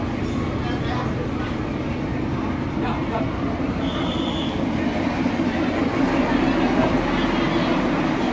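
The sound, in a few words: train wagon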